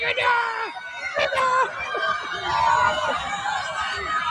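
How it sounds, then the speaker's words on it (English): A crowd of fans screams and cheers loudly at a Cleveland Browns training camp, with high excited shrieks and chatter blending together, and someone talks over the noise. "Look how much they screaming."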